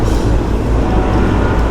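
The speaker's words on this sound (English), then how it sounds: "I was getting ready to start talking and heard this train" A passing train roars loud and steady near an Amtrak line by the tracks, a continuous dense rumble with rail noise filling the whole moment, no voices.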